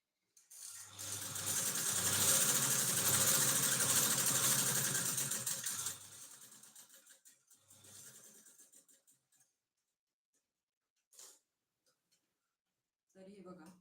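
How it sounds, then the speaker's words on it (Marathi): A sewing machine top-stitches the yoke strip of a katori blouse in one loud, steady whirring run of about five seconds, then slows into shorter bursts and quiet handling sounds. "खालच्या साईडने मी याला दाबटीप टाकून घेत आहे"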